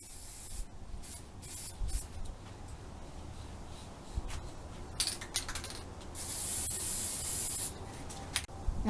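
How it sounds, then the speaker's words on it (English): Krylon stained glass spray paint hissing onto a jar lid, short spurts early then a longer steady spray near the end, close up with no talking. "I have this Krylon stained glass spray paint, and I'm just going to paint the outside of the lid with this."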